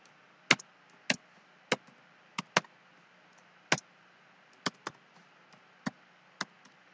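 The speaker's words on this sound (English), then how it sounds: "I'm going to type in the name of my report." Slow, irregular keystrokes on a computer keyboard: about a dozen crisp, isolated clicks spaced apart, close and fairly quiet against a faint steady hum.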